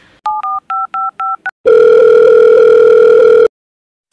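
Telephone dial tones in a comedy sketch: five short two-tone beeps, a brief pause, then a loud, steady tone held for about two seconds before it cuts off.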